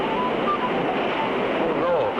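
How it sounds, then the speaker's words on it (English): Steady roaring rush of open river water over huge boulders toward a waterfall, a cartoon effect heard as a continuous broadband wash that swells slightly near the end. "Sounds like open water, rushing over huge boulders."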